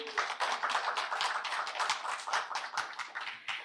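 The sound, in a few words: audience applause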